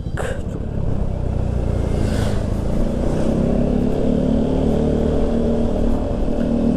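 A truck passes a 2023 Yamaha Xmax scooter on a city road, heard as loud, steady engine and road rumble that swells and holds close throughout.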